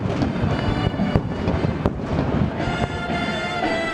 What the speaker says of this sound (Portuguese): Uma salva de 21 tiros de canhão abriu a solenidade.